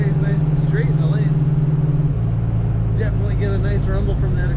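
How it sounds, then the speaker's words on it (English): A 1966 Chevrolet Nova idles with a deep, throbbing exhaust rumble that pulses steadily and shifts pitch slightly partway through, while voices murmur faintly over it. "Definitely get a nice rumble from that exhaust in this car. The idle especially sounds really good."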